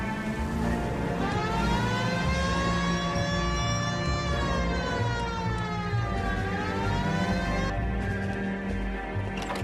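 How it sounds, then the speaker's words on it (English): A police car siren wails in LA Noire during a pursuit of a taxi, a rising and falling electronic tone sweeping repeatedly over a rumbling engine, loud and close, cutting off near the end. "Hit the siren"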